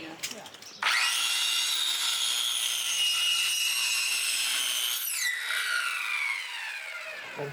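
A power saw cutting a wood board at a lakeside camp on Lake Superior: one sustained, loud, whining cut lasting several seconds, with the pitch dropping near the end before it winds down.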